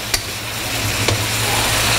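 Chicken noodle soup ingredients cook in a wok on moderate heat, not full blast, making a soft, steady sizzle. Two brief scraping ticks and a low hum sit underneath.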